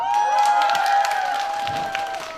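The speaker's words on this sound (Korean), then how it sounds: "박수 한번 주세요" Festival crowd applauding fan club members at an outdoor performance, a brief burst of clapping and cheers mixed under a sustained musical tone, fairly loud and close.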